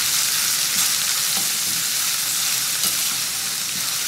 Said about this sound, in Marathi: आता कांदा हलक्या सोनेरी रंगावर परतून घेऊयात.